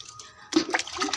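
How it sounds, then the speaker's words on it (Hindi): Water poured onto household plants during evening watering, a short splashing gush that starts abruptly after a quiet moment and carries on close and fairly loud. "मैं खाना बनाने से पहले जो है सारे पौधों में पानी दूंगी"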